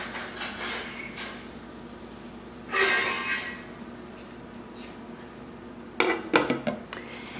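A lid is set on a kitchen pot of roast and vegetables, with a short metallic clatter midway and a quicker burst of clanks and scrapes near the end over a quiet room.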